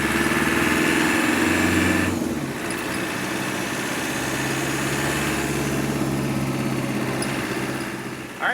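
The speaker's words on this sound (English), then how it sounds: "we're taking the Land Rover out for a test drive. You're going to hear all that diesel fun today and turbochargers" A 1988 Land Rover Santana's turbocharged diesel engine runs with a steady low rumble, loud and close, dipping slightly after a couple of seconds and then holding even.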